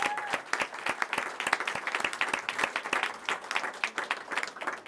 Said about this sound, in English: Everybody give a round of applause to Miss Diane.